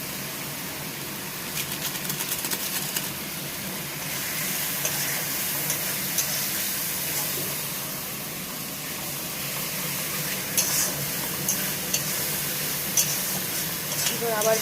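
Turmeric and Kashmiri chilli powder fry in a pan for a fish-head ghonto, a steady close sizzle with scraping stir strokes running throughout, and a voice speaking over parts of it.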